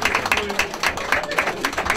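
Audience at a CD single presentation applauds, quick rhythmic clapping from a nearby crowd, steady and fairly loud.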